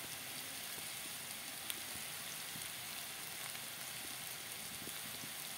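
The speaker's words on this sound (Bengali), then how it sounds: "এখানে আলু আর শালগম ভাজা করা হয়েছে মাছের" Potatoes and turnips frying in oil for a fish dish, giving a steady, even sizzle with faint crackles and pops throughout, heard close and alone.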